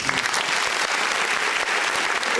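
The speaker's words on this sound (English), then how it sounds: "just let me give my man a round of applause real quick" Steady round of applause for a guest on a basketball preseason preview show, dense clapping filling the whole stretch at an even level with no voices on top.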